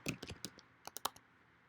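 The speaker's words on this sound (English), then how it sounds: "You're going to type in your user initials and password." Quick bursts of computer keyboard typing as user initials and a password are entered, a handful of light clicking keystrokes in two short clusters, close and fairly quiet with no talk.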